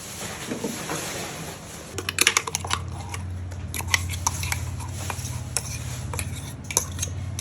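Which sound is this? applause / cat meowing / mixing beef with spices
mixing beef with spices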